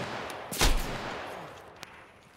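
A single sharp gunshot in Escape From Tarkov rings out near the start, followed by a fainter distant crack later, over a steady low background hiss.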